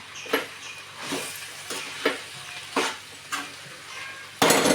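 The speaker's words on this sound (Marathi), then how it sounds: "हे बघा आता मी मिक्स करून घेणार आहे व्यवस्थित" Young jackfruit vegetable dish being stirred in a pan, a light sizzle under a regular series of scraping spoon strokes about every second, close up, ending in a louder burst of sizzling.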